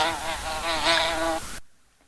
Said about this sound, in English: That's the sound bees and wasps make.